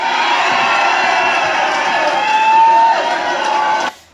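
A large crowd at a political rally shouts and cheers in a loud, dense, sustained roar that cuts off abruptly at the end.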